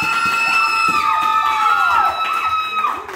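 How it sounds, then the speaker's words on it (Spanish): A crowd cheers and shouts excitedly, with high voices whooping over a steady wash of noise throughout. "Un aplauso por favor del público."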